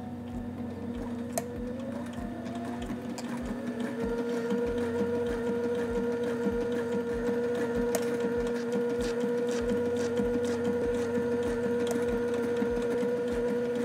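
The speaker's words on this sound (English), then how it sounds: "Now we're gonna sew this into place, and we're gonna sew a stitch line on each edge and down the middle." A sewing machine stitches a wide fabric hem, a steady motor hum under fast, evenly spaced mechanical clicking of the needle that grows slightly louder and keeps running throughout, close up with no talking.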